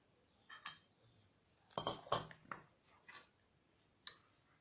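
A spoon clinks faintly against a container while dissolving two spoonfuls of gelatin in a little water in a kitchen. A handful of light, scattered taps form a brief cluster in the middle.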